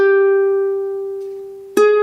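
A ukulele string tuned too high is plucked and rings out clearly, fading slowly, before a second pluck sounds near the end, alone and close.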